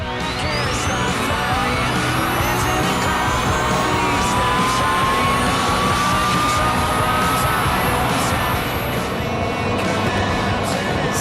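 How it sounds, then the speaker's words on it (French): Tesla Roadster electric sports car accelerating, a light turbine-like whine rising steadily in pitch over a continuous loud roar of motion and road noise. "À l'accélération, on le verra tout à l'heure, on entend un léger bruit de turbine"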